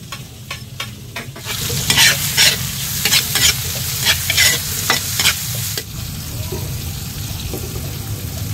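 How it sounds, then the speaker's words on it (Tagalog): Chicken adobo ingredients sauté in a hot pan, a steady sizzle with bursts of stirring and scraping throughout, close and fairly loud, with a voice heard briefly over the cooking. "Ngayon, siyempre, magigisa na si Yuna."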